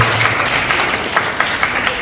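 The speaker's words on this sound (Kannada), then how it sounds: "ಅದಕ್ಕೆ ಇದಕ್ಕೆ ಶಬಾಷ್ ಅಂತ ನಾ ಚಪ್ಪಾಳೆ ಕೊಡ್ತೀನಿ" Audience applause at a Kannada devotional Purana recitation in Kalaburagi, a crowd of hands clapping in a dense, continuous patter with a few sharper claps standing out, close and fairly loud, with no talk.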